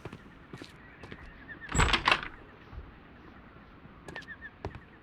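A door opens in Sherlock Holmes: The Devil's Daughter with a short burst of creaking and thudding near the middle, set among sparse light clicks and knocks in a quiet room.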